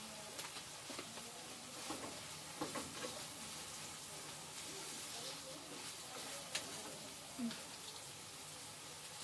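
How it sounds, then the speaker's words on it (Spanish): Onion and ground meat sizzle and fry in a pan for lasagna while being stirred, a steady close hiss with occasional scraping clicks of the utensil throughout. "Vamos a echarle la cebolla, la carne. Y ahí la vamos a menear."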